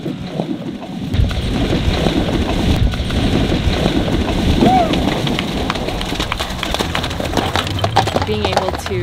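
A combined-driving horse team crashes through a river, with broadband splashing and churning water mixed with wind noise and hoof sounds across the whole stretch, loud and close, while voices are faintly present.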